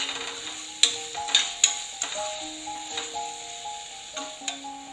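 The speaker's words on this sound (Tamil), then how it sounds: "தக்காளி பார்த்தீங்கன்னா இப்போ நல்லா வதங்கிடுச்சு." Soft sizzling and stirring of chopped tomatoes with salt sautéing in a pan, with light scraping ticks at an irregular rhythm under a faint steady tone.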